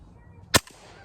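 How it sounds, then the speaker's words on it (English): An AR-9 rifle fitted with a shortened carbine buffer and spring fires a single sharp, fairly quiet shot up close, a brief crack that fades quickly into near silence. "it shot. It was crazy quiet, and it cycled that round out."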